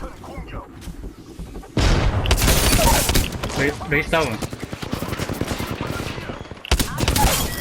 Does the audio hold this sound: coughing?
no